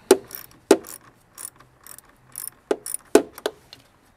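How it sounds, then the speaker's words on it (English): A ratchet with a 10 mm socket loosens a car battery terminal bolt on a Chevy Colorado, giving several short, sharp clicking bursts in irregular bunches, close and clear with no talking. "you'll want to go back to a 10 millimeter socket to remove this"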